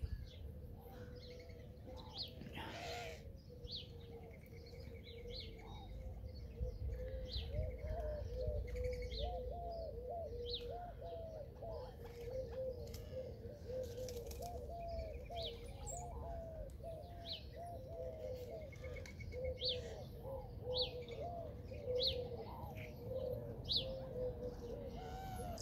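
Small blackbirds in a backyard, a busy flock giving steady overlapping chirps and whistled calls that carry on throughout, with a low rumble of background noise underneath.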